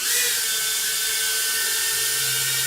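A SANROCK GD65A mini drone hovers close by with a loud, steady high-pitched whine of tiny spinning propellers, its pitch shifting slightly as it flies, with no talking.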